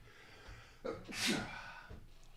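One quick sneeze rises out of a quiet, slightly noisy background, with a short breathy lead-in and soft rustling after.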